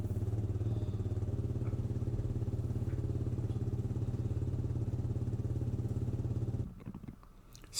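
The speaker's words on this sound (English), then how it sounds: "run your bike for 5 minutes to circulate the oil" A Yamaha WR250R motorcycle engine idles steadily up close with an even, low rumble for most of the stretch, then cuts out near the end, leaving quieter background.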